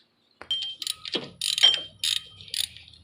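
A ratchet wrench clicks in quick irregular bursts, loosening bolts during a car belt tensioner replacement, close and distinct against near silence.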